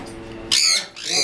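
A parrot, among African grey parrots and conures, gives two loud, harsh squawks close by, the second after a short pause, over faint background noise.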